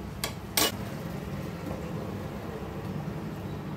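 A lid set onto a kadai cooking pan, two sharp metallic clinks in quick succession, the second louder, then only a low steady hiss of cooking.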